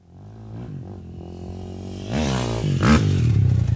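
A motocross motorcycle engine revs up close, its pitch rising and surging as the rider pulls a wheelie into an ollie, with a gritty clatter over the roar and no talk.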